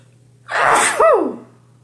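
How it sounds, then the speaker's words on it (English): One loud, close sneeze from a woman at a paper-crafting and rubber-stamping table: a sharp intake and a forceful burst, with quiet room hum before and after. "ooh, I think I might sneeze."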